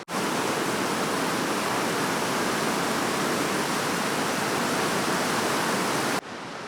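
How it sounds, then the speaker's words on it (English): A desert river in the northwest of Namibia runs in full flood, giving a loud, steady, close roar of rushing water that cuts off abruptly to a quieter hiss near the end. "the river behind me is in full flow, an event that doesn't happen very often"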